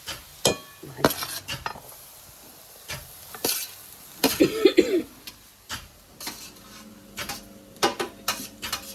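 Young jackfruit pieces tipped into a hot spiced pan in a Konkan home kitchen, giving a burst of sizzling and frying with stirring clatter and a few scrapes of utensils against the pan, close and moderately loud.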